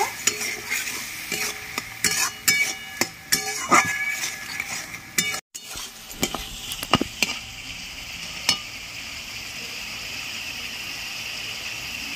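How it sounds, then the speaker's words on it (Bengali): Spice paste with chopped tomato and salt being sautéed in a pan for a rohu fish curry with potato and pointed gourd: steady sizzling frying under repeated scraping stirs and occasional utensil clinks, with no talking. "টমেটো কুচি, পরিমাণ মতো নুন, ভালো করে মশলাটা কষিয়ে নেব।"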